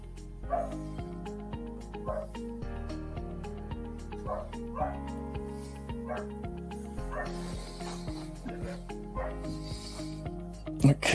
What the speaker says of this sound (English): I don't know if you hear my dog,